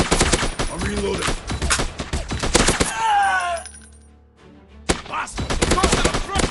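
Gunfire in a shooting video game, with dense rapid automatic bursts firing loudly for several seconds, a brief lull, then firing resumes, with voices shouting among the shots.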